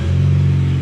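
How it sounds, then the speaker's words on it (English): A Ford Fiesta ST on a cold start with a DNA Motoring 3-inch catback exhaust gives a loud, steady low rumble with a deep idle drone over less than a second. "here's gonna be a cold start with the new exhaust, DNA motoring 3-inch catback exhaust"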